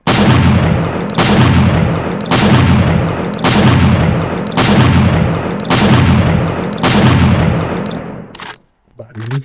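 Shotgun fire in the survival game 7 Days to Die booms out in about eight loud, evenly spaced blasts, each with a long ringing tail, followed by a brief pause and a final shot.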